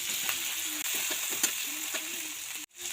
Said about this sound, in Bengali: একটু গোটা জিরে অল্প একটু হলুদ গুঁড়ো এক চামচ আদা বাটা দিয়ে দিচ্ছি টমেটো দিচ্ছি